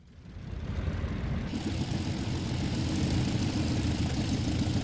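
A CAP-4 propeller plane in Microsoft Flight Simulator 2024 starts up and settles into a steady, close, low rumbling idle with a rough, old-sounding engine note and no voices over it.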